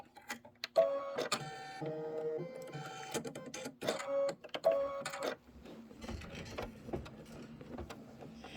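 An embroidery machine stitching orange daisy centers, a close run of mechanical whirring and tonal motor whines broken by clicks and short pauses, fading to softer rustling handling noise.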